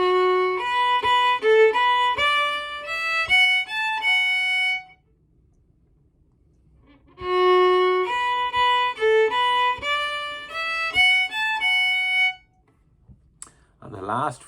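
Slide guitar plays a phrase of the Irish tune An Chóisir, part B, as clear sustained harmonic notes gliding between pitches; two passes of the phrase separated by a few seconds of silence, with a brief noisy rustle at the very end.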